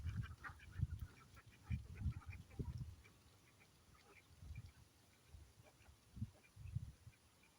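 Ducks walking in a line along a dirt path quack in repeated short bursts, moderately close, with a low rumble of outdoor background noise.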